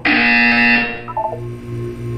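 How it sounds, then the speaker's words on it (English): A loud, steady electronic buzzer tone sounds alone for about a second, then cuts off, followed by faint low hum and brief quieter tonal blips. "You will hear a buzzer."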